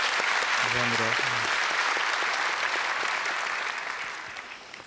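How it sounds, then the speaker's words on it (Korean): Sustained applause from a conference audience at a startup forum fills the hall, loud and even before slowly tapering off, while someone briefly speaks over the start of it. "느껴지면 박수 한번 쳐주시죠"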